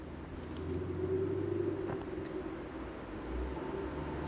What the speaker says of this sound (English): he's got one car that I swear it has no mufflers, and it's so loud